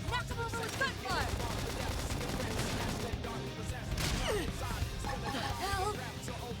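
Rapid bursts of gunfire from Xenoblade Chronicles X crackle alongside whooshing and chiming effects, busy and layered like game combat, with a voice briefly heard among them.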